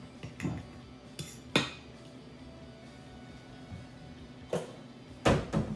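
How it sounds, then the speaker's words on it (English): A fork mixes banana bread batter in a bowl, with a few sharp clinks and taps of metal against the bowl separated by quiet stretches, close and fairly faint. "I'm just gonna use a fork and I'm gonna mix this all together"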